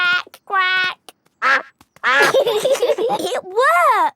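In a cartoon, a character's voice imitates a duck with loud, close, nasal quacks among short spoken bursts, and a second voice joins in.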